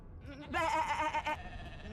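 A sheep in the Divinity: Original Sin 2 video game gives one wavering, nasal bleat lasting under a second, fairly close and clear over a faint low background.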